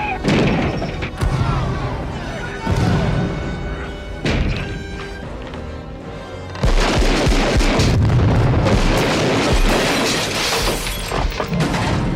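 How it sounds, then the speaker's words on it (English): Glass shattering in an action scene from the 1988 film Die Hard, loud bursts of breaking glass mixed with booming blasts and dense soundtrack noise, with a sudden louder crash partway through and talk underneath. "Lots of broken glass in this movie."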